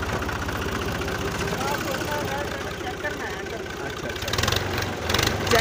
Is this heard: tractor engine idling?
yes